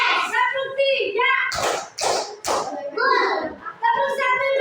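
Children in a classroom clap together in short rhythmic bursts, several sharp broadband claps standing out between loud, lively chanting voices of kids and a teacher.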